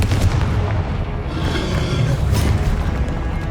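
A Confringo blasting curse in the Hogwarts Legacy video game erupts into a loud, dense, roaring explosion that rumbles continuously for a few seconds without a break.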